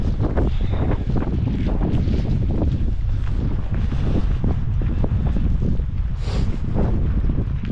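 Strong wind roars and buffets against the microphone in a steady, loud rumble on a wet, grim day beside Ennerdale Water, gusting unevenly with no voices.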